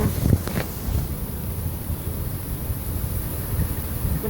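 Cold wind blowing outdoors near a US college campus in late autumn, a steady broadband rush buffeting the microphone with a few brief low thumps early on, no voices.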